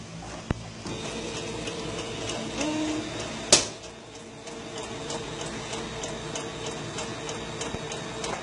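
A sewing machine stitching fabric for an animal print dress runs with a steady mechanical ticking and whirring, a sharp click cutting through midway, all fairly quiet and close with no talking.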